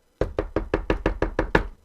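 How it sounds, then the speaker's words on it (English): Eight quick, firm knocks on a door in a steady rapid series, close and solid, with no voices. "he began to knock on the door"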